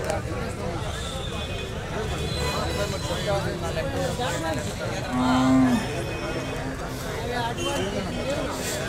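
Jersey cows at a busy Sunday cattle market in Santhipuram low and moo once, loud and close, over a constant background of crowd hubbub and farm noise.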